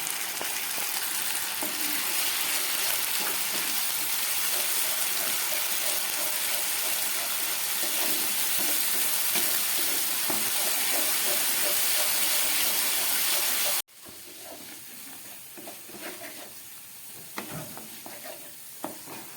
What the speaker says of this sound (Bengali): পেঁয়াজ, আদা, রসুন, লঙ্কা অনেকটাই ভাজা হয়ে গেছে।